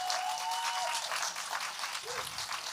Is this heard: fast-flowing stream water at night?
no